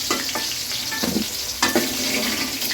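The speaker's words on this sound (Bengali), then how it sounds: "টমেটো আলুগুলো কিছুক্ষণ ভেজে তুলে দেওয়া হচ্ছে" Potatoes and tomatoes frying in a pan for a Bengali house fish curry, giving a steady close sizzle with a few scraping stirs of a spatula and no voices.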